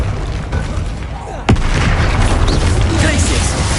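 Spell blasts from Bombarda and Confringo in the game Hogwarts Legacy, with one sharp booming hit about midway followed by dense, rumbling explosive noise that fills the rest, loud and close.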